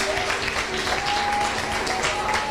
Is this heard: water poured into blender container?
no